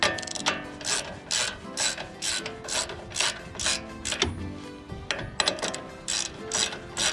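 A ratchet wrench clicks steadily, loud and close, loosening the upper control arm ball joint nut on a 2020 Chevrolet Silverado 1500 during a leveling kit install, in quick repeated bursts with no talking.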